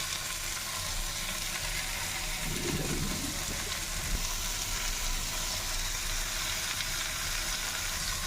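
Capsicum frying in a pan over a medium flame, an even, steady sizzle that holds throughout with a brief stirring rustle partway through.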